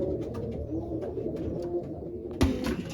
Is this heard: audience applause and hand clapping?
no